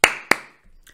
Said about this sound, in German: klatscht in die Hände